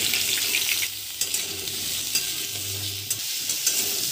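Potato, beans and carrot fry in mustard oil with dry chili and five-spice, a close steady hiss broken by several spatula scrapes and knocks against the pan; no voices.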